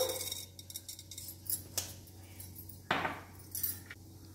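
Mustard seeds and urad dal tossed into hot oil in a kadai give faint crackles and pops, with several brief sharp clinks and rattles against the pan, and no voice.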